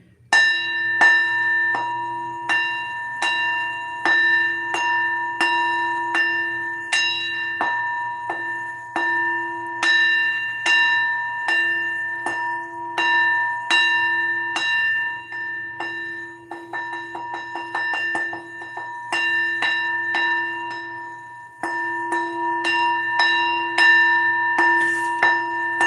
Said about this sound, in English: let me ring my bell real quick